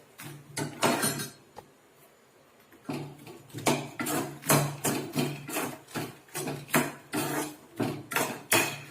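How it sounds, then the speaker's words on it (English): Makhana (fox nuts) being fried in a pan on a low flame, giving repeated dry clattering taps and scrapes as they are stirred, in irregular bursts with a brief quiet gap near the start. "Do not make it more golden brown, but just 1 or 2 minutes we fry these makhanas."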